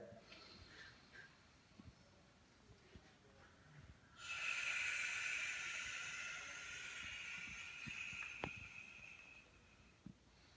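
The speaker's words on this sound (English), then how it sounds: "you wanna exhale till there's nothing left, and then again" A long, forceful hissing exhale starts abruptly and continues for several seconds, close and steady, trailing off gradually against a quiet background.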